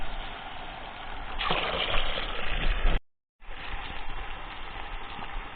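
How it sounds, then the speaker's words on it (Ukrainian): Clean water gushes steadily from a hand-drilled irrigation well, a continuous broadband rush that swells louder midway, cuts out briefly, then resumes. "Вода вже йде чиста"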